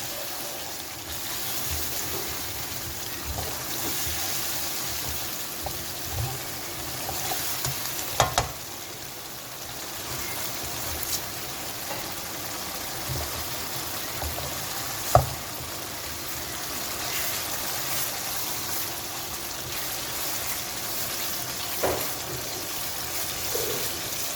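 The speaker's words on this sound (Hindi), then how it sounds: "इसको तकरीबन 2 मिनट तक प्याज को गरम मसाले के साथ भूनेंगे।" Onions, already boiled, sizzle and fry with garam masala in a pan for Kashmiri chicken curry, a steady, close crackling hiss with occasional stirring clinks and no talk.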